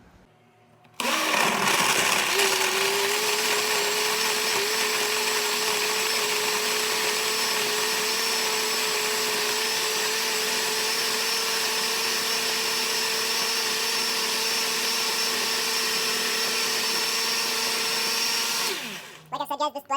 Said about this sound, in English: this blender is definitely not made to blend dates